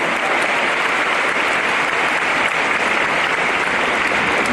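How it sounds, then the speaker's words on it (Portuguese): Church congregation applauding in a sustained, dense wash of clapping that stays loud and even throughout, with no speech over it. "Recebamos com um aplauso e com nossos corações abertos."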